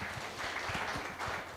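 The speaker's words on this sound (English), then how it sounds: "let us clap for Makena." Audience at a teen panel discussion clapping for a teen panelist, a short, fairly faint burst of applause heard alone.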